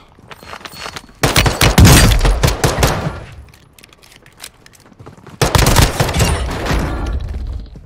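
Loud bursts of rapid gunfire from the video game Warzone 2, two dense clusters of sharp cracking shots separated by a quieter lull, with no talk over them.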